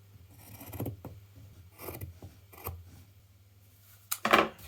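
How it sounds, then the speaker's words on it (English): Scissors cut excess T-shirt fabric near a stitch in a few separate crisp snips, close and quiet, ending with a louder handling clatter, no talking. "Now we can cut the excess off, like half a centimeter from the stitch"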